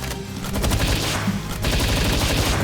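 Rapid gunfire from a gun in the video game Palworld, a dense rattling volley of close, loud shots with a brief dip midway before continuing.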